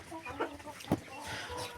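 Young chickens on a farm give soft, scattered clucks at evening feeding, faint and somewhat distant against steady outdoor background noise, with one sharper cluck standing out midway.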